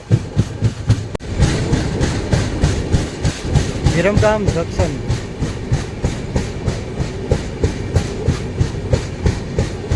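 A 19260 Kochuveli Express train running from Bhavnagar to Ahmedabad near Viramgam Junction, wheels beating a steady, close clickety-clack rhythm over the rails, with a person talking over it.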